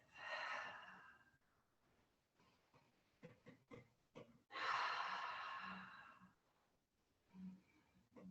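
Slow breaths drawn in and pushed out through the nose during a gentle yoga session, a few soft airy exhales with quiet pauses between them, close and calm, no talking.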